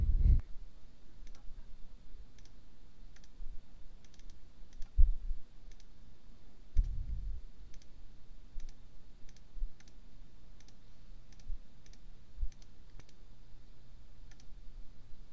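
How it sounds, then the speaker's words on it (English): Mouse clicks on the Windows on-screen keyboard while typing in Microsoft Word: sharp, faint, isolated clicks spaced irregularly every second or so over a quiet background, with a few soft low thumps. "The following is a demonstration of using the on-screen keyboard in Microsoft Word."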